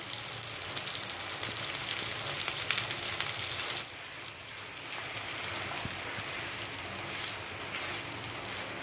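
Mustard seeds, turmeric and mashed potato hit hot oil in a pan for Mumbai vada pav filling, a bright crackling sizzle at first that drops to a softer, steady frying hiss partway through.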